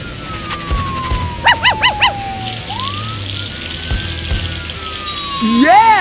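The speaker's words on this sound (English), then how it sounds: "Police car." A police car siren wails in one long, slow rising and falling sweep that runs through the whole scene, mixed with bouncy cartoon-style sound effects and a quick burst of chirping tones.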